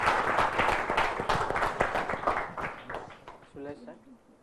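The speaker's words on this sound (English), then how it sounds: "Please give a round of applause." An audience claps to welcome a speaker onto the stage, close and brisk at first and then thinning out and fading to a few scattered claps as a voice begins to talk.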